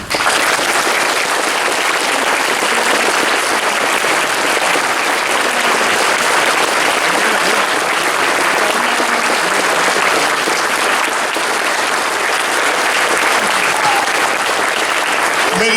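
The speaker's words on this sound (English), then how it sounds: "give these two men another fantastic round of applause" Sustained, loud applause from a large crowd at the Auto Assembly 2015 closing ceremony, a dense, even roar of clapping that holds steady for the whole stretch with no voices over it.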